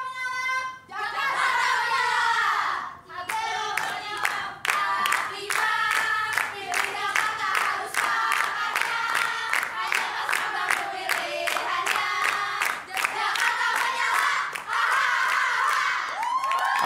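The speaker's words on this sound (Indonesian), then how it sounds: "Saya ingin mendengar dulu yel-yel dari pasangan nomor urut 3" Supporters of candidate pair number 3 at a Jakarta vice-governor candidates' debate chant a loud, rhythmic yel-yel in unison, with steady clapped beats and crowd shouting that carry on for over fifteen seconds.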